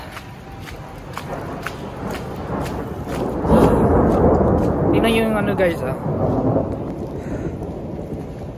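Thunder rolls during a storm in Japan, a deep, loud rumble building midway and fading slowly under steady background noise, with people talking over it.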